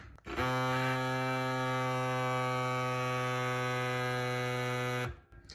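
A loud, steady electric mini air pump inflating a bike tire drones for about five seconds with a strong harmonic buzz, starting and stopping abruptly.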